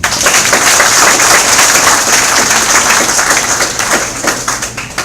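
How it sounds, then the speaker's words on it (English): Loud, dense applause from the audience at a military training class graduation ceremony, steady throughout and easing slightly toward the end. "a round of applause, ladies and gentlemen"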